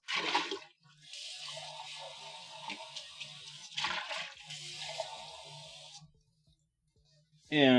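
A cup of water is poured into a hot pan with browned meatloaf bits stuck to the bottom, giving a sizzling, hissing rush in two bursts with gaps between, faint overall.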